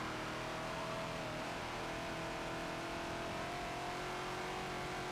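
Engine of a Ford Falcon XB race car, an Australian car with NASCAR stock car pedigree, droning steadily at Sonoma in a Forza racing game, a continuous mid-pitched hum with slight pitch drift, faint and alone throughout.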